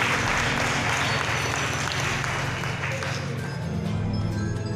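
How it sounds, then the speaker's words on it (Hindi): Applause at a music academy's annual function and award ceremony, a continuous loud wash of clapping from a crowded hall, with a low hum and reverberant background underneath. "तालियां बज जाए"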